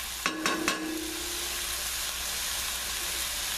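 Fish sizzles and fries steadily in a pan, with a few sharp clatters at the start as it settles, then a continuous close hiss.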